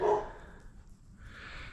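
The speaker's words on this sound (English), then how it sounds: "Neighbor's dog in the back." A neighbour's dog barks once loudly from behind the house, then a fainter outdoor hiss and faint yips follow.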